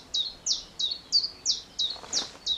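A bird sings outdoors by the seaside, repeating a bright, clear chirping note about eight times at an even rhythm, fairly close and distinct against a quiet background.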